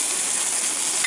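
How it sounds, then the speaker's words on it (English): Steak frying at a campsite in sub-zero cold, a dense continuous hissing sizzle heard up close and loud with no break. "Cooking steak at -4."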